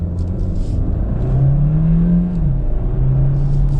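A 2022 Hyundai Tucson plug-in hybrid with a 1.6-litre four-cylinder engine accelerates in sport mode. Its steady, loud engine drone climbs in pitch and then settles, with no talking.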